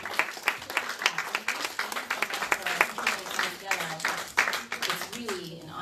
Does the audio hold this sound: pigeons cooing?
no